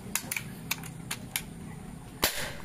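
An air rifle fires at small targets outdoors, with a sharp, close crack near the end, preceded by a few lighter clicks and taps from handling the gun over a low background hum.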